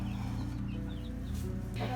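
A broody hen clucks in low, grumbling bursts across the short stretch, close by and fairly steady, with faint background noise.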